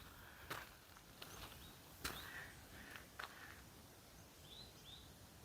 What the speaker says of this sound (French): On n'entend que les oiseaux.